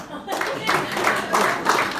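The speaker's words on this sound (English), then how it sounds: "Clap if you're a son." Audience applause in a comedy club, a steady wash of many hands clapping for about two seconds, fairly loud and close, with some voices mixed in.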